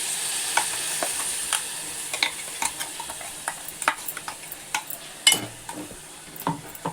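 Malvani masala paste sizzles in a pot of prawn and baby shark curry while a spoon stirs it, with irregular scraping clacks against the pot over a steady fry.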